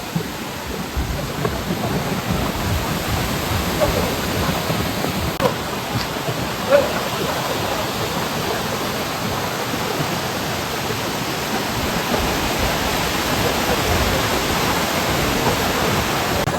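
Bariya Pathar waterfall in Odisha roars as a loud, steady broadband rush of falling water, continuous and unbroken with no voices over it.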